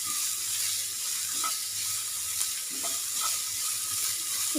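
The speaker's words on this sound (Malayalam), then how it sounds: "സവാള ഒന്ന് നന്നായിട്ട് വഴറ്റിയെടുക്കുക." Onion sautéing in a pan gives a steady, close hiss of sizzling oil, with occasional soft stirring scrapes and no talk.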